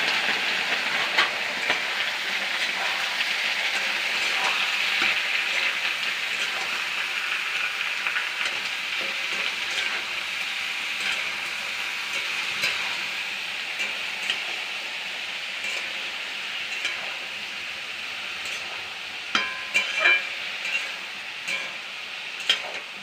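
Soybeans and potato sizzle in a hot pan in a home kitchen, a continuous, close frying hiss with scattered crackles and a few louder clinks near the end.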